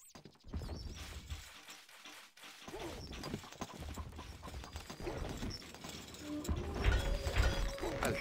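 A horse gallops in the Stronghold Crusader strategy game, its rhythmic hoof clip-clop running under dense clanking and mechanical game noise that swells toward the end.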